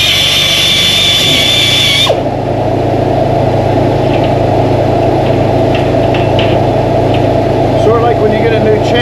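A sharpener grinds against a freshly rehammered sawmill blade for about two seconds, a harsh bright whine over a constant low machine drone, which then continues alone with someone talking over it.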